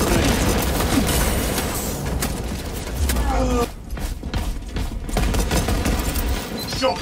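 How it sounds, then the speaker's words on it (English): Shock grenade thrown and detonating amid heavy combat in Warhammer Space Marine 2, with dense bursts of gunfire and booming blasts throughout, a dip of quieter crackling partway before the firing resumes, and brief voices in the game mix. "Throwing shock grenade."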